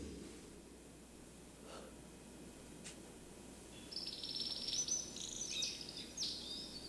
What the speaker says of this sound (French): Oh, le beau chant d'oiseaux.